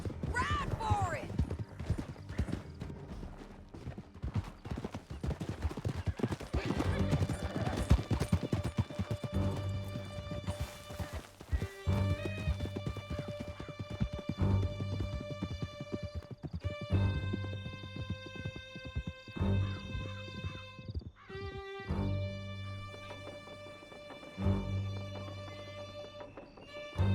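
Several horses gallop hard through a canyon during a chase in the video game Red Dead Redemption 2, with steady rhythmic clip-clop of hooves, a whinny and snorting, set under game music with people talking over it.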